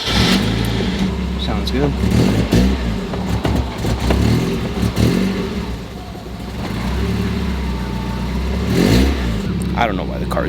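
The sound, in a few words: Mazda Miata car engine starting up and revving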